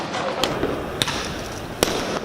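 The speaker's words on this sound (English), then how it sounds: "In Beirut, demonstrators threw fireworks and rocks at riot police." Fireworks thrown by demonstrators at riot police during a street protest in Beirut, a few sharp pops and cracks over a loud, continuous crowd roar.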